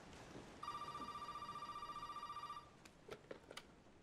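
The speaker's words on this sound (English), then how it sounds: "The phone's ringing!" A telephone rings in the horror video game Resident Evil 7 with a steady electronic trill repeating for about two seconds, loud and clear, then stops as footsteps and brief knocks follow.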